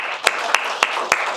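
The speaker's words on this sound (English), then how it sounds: "Let's give him a round of applause." A lecture audience at a college talk starts a round of applause, heard as four sharp, evenly spaced, loud claps over a steady background hiss.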